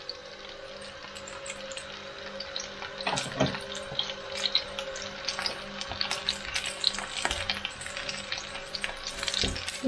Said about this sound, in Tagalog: magpiprito tayo ng talong